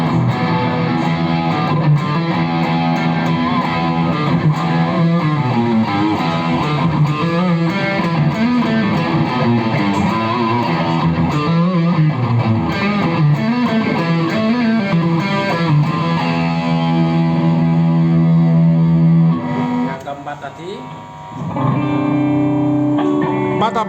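An electric guitar plays through a distortion patch on a BOSS GT-1000 multi-effects unit, a continuous loud, dense, overdriven tone with sustained chords that drops briefly near the end.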